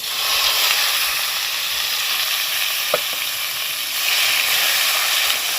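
Chopped onion and tomato sizzle in a pan as a loud, continuous hiss that swells again near the end, with a short clink partway through and no voices.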